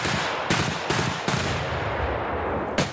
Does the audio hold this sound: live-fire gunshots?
yes